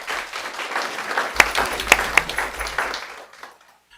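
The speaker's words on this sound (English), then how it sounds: "How about a round of applause for Mark Bills?" Audience clapping at a school board of education meeting, a few sharp louder claps standing out within moderate applause that fades away near the end.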